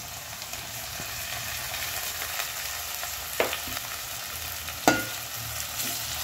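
Onion and tomato sautéing in a pan for a Konkani-style chicken dish, with a steady close sizzle and a couple of sharp scrapes from stirring, and no voices.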